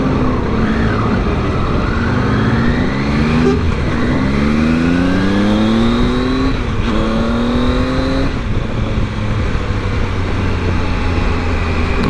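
A 2020 Triumph Tiger 800 motorcycle engine revving up and down through gears in heavy traffic, close and loud, with rising and falling pitch and steady road noise.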